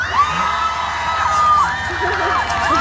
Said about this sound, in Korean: 제가 하트를 올리는 순간 바로 박수 함성입니다